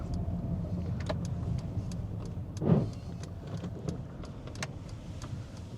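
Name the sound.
car slowing down approaching a roundabout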